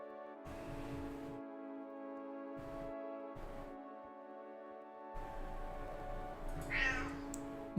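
A cat meows in a few separate calls with pauses between them, close by, with the last cry rising and higher-pitched, heard over a steady hum from the room.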